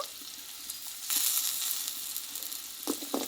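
Cut potatoes dropped into hot oil for a dry yardlong bean and potato curry, a bright sizzle that surges loudly after a second and keeps crackling, with a few stirring knocks near the end.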